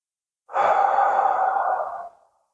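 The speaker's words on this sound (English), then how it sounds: "Breathe in through your nose." Slow, deep breath drawn in through the nose and released through the mouth in a relaxation exercise, one long steady breath close to the mic with no talking.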